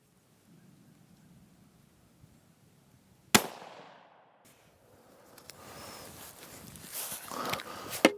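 A single sharp deer rifle shot cracks out at a sighting-in range, loud and close, followed by a decaying rumble and faint outdoor rustling and movement.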